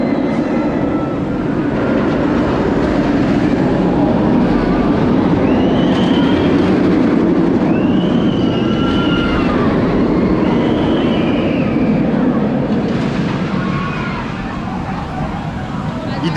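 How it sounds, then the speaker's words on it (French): Kumba roller coaster train at Busch Gardens Tampa thundering past, a loud continuous rumbling roar with rattling and faint high squeals along the track, sustained for many seconds while people talk over it. "Et Kumba ça fait un bruit monstre, hein."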